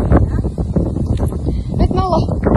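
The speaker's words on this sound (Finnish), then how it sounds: "täällä tuulee ihan hirveesti" Strong wind buffets the microphone outdoors in a steady rough roar, with a person talking over it throughout.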